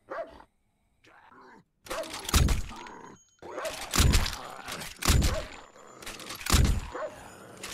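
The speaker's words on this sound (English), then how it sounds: "And I hear a dog." A dog barks repeatedly in the zombie survival video game No One Survived, several loud sharp barks in a broken rhythm amid other in-game thumps and noises, with no talking.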